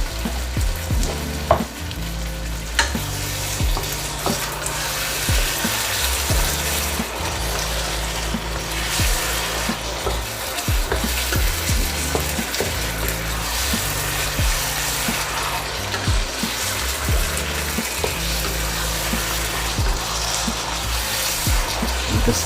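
Brisket lo mein sauce with red pepper flakes bubbles and sizzles steadily in a pan, a continuous close hiss with occasional stirring scrapes and clicks over a low background tone.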